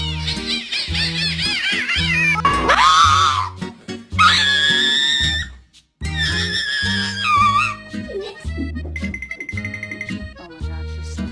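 A large, heavy-bodied cat yowls and screams loudly in long, wavering cries, several drawn-out calls in a row with brief gaps between them, close and dominating over a background of shouting.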